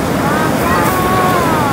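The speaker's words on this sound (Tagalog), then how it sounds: "Kaya nga, ito yung malakas ng alon, no?" Steady rushing surf with strong wind buffeting the microphone, a continuous roar of waves throughout.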